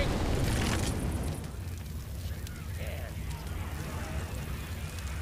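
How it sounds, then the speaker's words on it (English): A Molotov cocktail bursts into flames in the Left 4 Dead 2 video game, a loud whooshing rush at the start that settles into a lower crackling fire roar. "Throwing a Molotov! The cop throwing a Molotov!"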